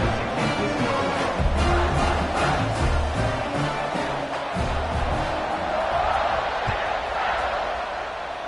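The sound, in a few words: football stadium crowd buzzing after a score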